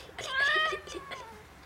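A pet cat lets out one drawn-out, close meow that rises and then trails off, with no talk over it.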